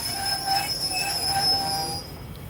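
An express train, number 136, screeches through Ban Dai Ma railway station in Nakhon Ratchasima, Thailand, its wheels squealing steadily and loudly for about two seconds before the sound drops away.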